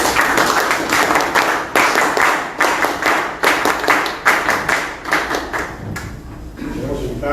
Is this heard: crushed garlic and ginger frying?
no